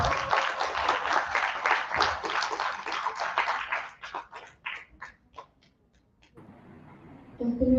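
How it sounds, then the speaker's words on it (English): An audience at an academic competition's opening ceremony applauds for a speaker with a dense burst of many hands clapping. It thins to scattered claps and fades out, then a low background murmur follows. "Please give an applause"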